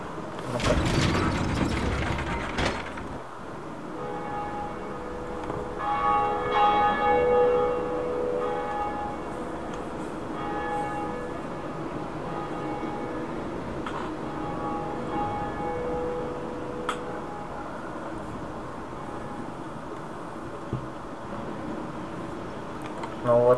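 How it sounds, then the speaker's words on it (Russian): A lever pulled to ring the Bell of Awakening in Dark Souls: a sharp mechanical clank and ratcheting burst at the start, then a large bell's ringing tone that lingers and slowly fades over a long stretch. "Это, видать, был колокол пробуждения."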